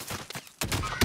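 Short burst of incoming gunfire in Call of Duty Warzone, a few sharp, loud shots packed into about a second.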